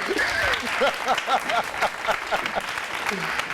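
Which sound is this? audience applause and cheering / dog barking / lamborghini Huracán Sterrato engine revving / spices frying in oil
audience applause and cheering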